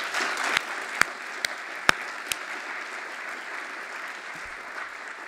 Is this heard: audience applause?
yes